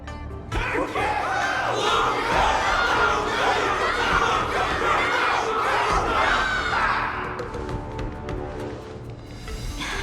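A large crowd cheers and shouts loudly and continuously for a fighter after a battle in the Honkai: Star Rail Luminary Wardance event, a dense wall of voices that thins slightly toward the end.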